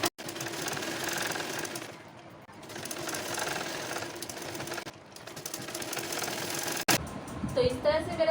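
An electric sewing machine stitches a dhoti salwar with a steady, loud mechanical whir that runs almost continuously, briefly dipping twice, then stops near the end, leaving faint room sounds and a voice.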